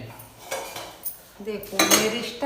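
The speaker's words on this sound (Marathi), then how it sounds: "भांडी ठेवते स्टाईल मारत" Kitchen utensils and dishes set down one after another, clinking and clattering in a quick, uneven series of close metallic knocks with no voices.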